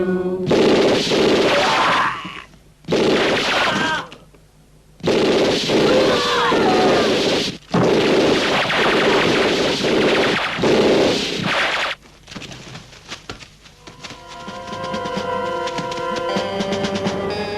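Rapid bursts of gunfire in a shooting, loud and dense, come in several long volleys separated by short gaps, then give way to a quieter stretch with ringing tones.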